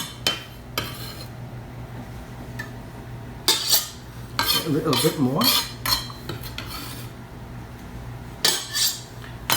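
Utensils scrape and clink against a bowl as meatball ingredients are stirred together, with brief soft speech between bursts of mixing.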